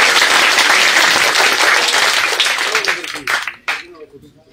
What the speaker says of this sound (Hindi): एक बार जोरदार तालियों के साथ देवेंद्र कादियान जी का हौसला बढ़ाएं